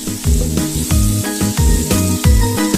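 Sliced zucchini frying in oil in a skillet, a steady close sizzle with a repeating rhythmic pulse of stirring and pan movement running under it, with no voices.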